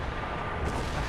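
Cannon artillery shots booming in a Napoleonic-era Total War battle, a dense continuous rumble of distant gunfire with no clear separate blasts, loud and unbroken.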